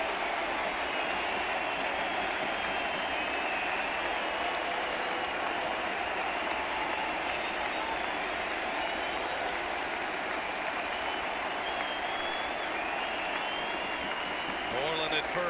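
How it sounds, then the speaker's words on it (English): A baseball stadium crowd cheers and applauds during an MLB playoff game between Texas and the Blue Jays, urging a strikeout. The roar is steady, dense and loud throughout, with no break in the noise. "This crowd's finally starting to get into it, trying to cheer on a punch out"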